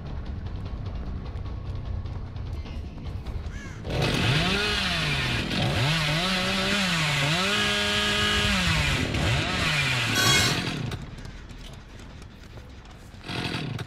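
A chainsaw revs and whines in rising and falling sweeps, wielded by enemies in a video game, loud and sustained for several seconds before cutting off and leaving game background noise.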